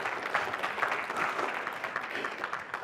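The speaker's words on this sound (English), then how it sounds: "Give yourselves a round of applause" Steady audience applause fills the room, a dense continuous patter of many hands clapping at close range with no voices over it.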